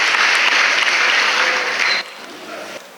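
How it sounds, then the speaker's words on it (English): A crowd at a school prize distribution ceremony claps steadily, then the applause drops off sharply and a few scattered claps linger at the end. "Please encourage these students with a round of applause."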